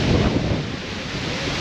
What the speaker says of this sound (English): Heading out into the blustery wind.